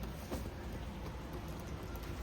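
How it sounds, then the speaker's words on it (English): Steady rain falls outside, a dense, even hiss of drops that stays constant and fairly loud throughout with no voices. "Oh man, so much rain."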